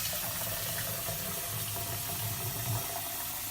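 Water from a tap gushes steadily into beef burrito filling, a continuous close rushing pour with a low churning undertone.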